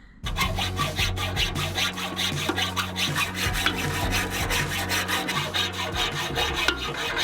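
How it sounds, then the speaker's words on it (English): Hacksaw cutting through a metal vehicle axle outdoors, a loud close rhythmic rasp of steady back-and-forth strokes, roughly two per second, with no talking. "So the old hacksaw finished off the job."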